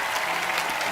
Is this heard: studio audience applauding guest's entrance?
yes